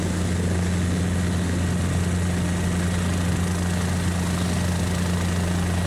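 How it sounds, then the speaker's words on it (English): A helicopter's main rotor in Microsoft Flight Simulator 2024 drones steadily for the whole stretch, a constant, even hum with no change in pitch or loudness. "So right now this is main rotor sound."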